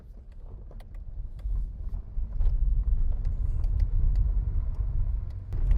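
Interior rumble of a Honda car with a hydraulic clutch on a test drive, a steady low engine and road drone that swells slightly as it accelerates, close and continuous with no talking.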